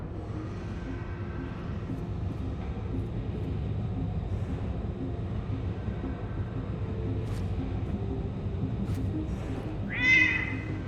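A cat's meow in the video game Lightmatter, heard once near the end, short and fairly close over a steady low ambient drone.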